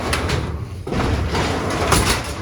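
A loud, continuous rumbling clatter of a malfunctioning garage door rolling closed along its track, steady and close throughout.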